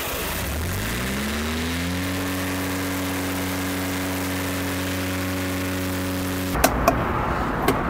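A diesel engine cranks and catches, its pitch rising steadily as it spins up, then settles into a loud, even idle that continues until a few sharp clicks and knocks near the end.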